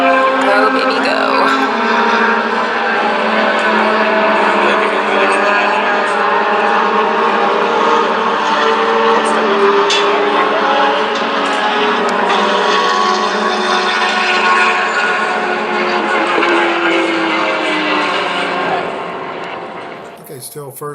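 A race car running a clockwise lap of Buttonwillow Raceway's full configuration in a VARA race roars loud and steady throughout, with a dense, sustained engine drone that eases slightly near the end.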